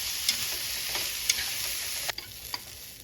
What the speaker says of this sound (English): Stir fry for 5 to 10 minutes until slightly softened.